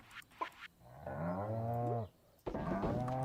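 Cow on a farm in Stardew Valley giving a long, clear moo, close and loud, between short bursts of other farm noise.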